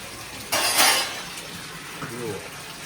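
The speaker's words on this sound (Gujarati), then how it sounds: "વાસણ ધોવે છે" Dishes washed by hand at home, a short burst of splashing water and clinking utensils that fades into quieter rinsing, with faint voices in the background.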